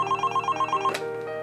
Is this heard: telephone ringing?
yes